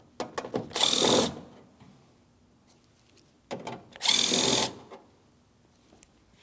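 Two short bursts from a power drill back out screws from the tailgate panel of a 2007-2014 GMC Sierra 2500 HD, each a loud whir of about a second, close up, with small handling clicks between them.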